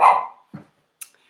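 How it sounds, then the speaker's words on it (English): A dog gives one loud, close bark, followed by two short, quieter yips or huffs in otherwise quiet surroundings. "sorry, that's my dog."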